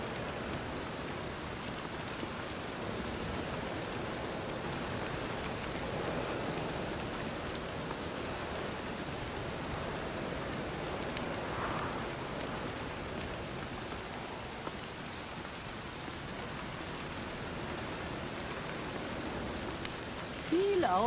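Steady rain falling over Hierarch Square in Novigrad in The Witcher 3, a continuous even hiss of drops on stone and roofs, moderately distant and unbroken.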